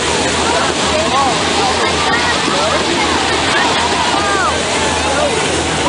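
Foamy water gushes hard from a blowhole mining well in Trona, California, a loud, continuous rushing and splashing roar, with excited voices heard over it.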